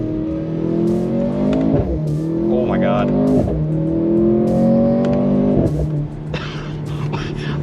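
A Mercedes C43 AMG with a dual-clutch gearbox accelerating hard, the engine droning up through rising revs with sharp exhaust pops and cracks at each gear change, loud from inside the cabin while a voice exclaims.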